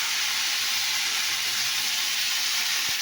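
Cumin seeds sizzle in hot oil in a pan, a steady, loud broadband hiss with fine crackle throughout and no talking.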